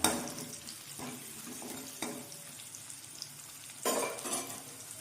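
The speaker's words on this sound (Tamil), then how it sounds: "இப்போ வந்து வெங்காயம் ஒரு ரெண்டு நிமிஷம் நல்லா வரங்கட்டும்" Chopped onions fry with whole spices in a pan for chicken kurma, giving a quiet, steady sizzle with a few soft stirring scrapes and one louder burst of stirring near the end, close by and without talk.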